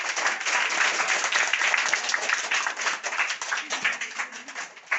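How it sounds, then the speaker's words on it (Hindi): An audience claps after a children's speech competition, close and lively applause with a brisk rhythm that thins and fades toward the end. "एक बार सभी के लिए जोरदार तालियां।"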